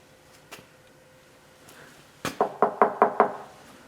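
Knuckles rap on the metal cab of a 1980 Chevy Silverado pickup: a couple of isolated taps first, then a quick run of five or six sharp, resonant knocks, close and clear.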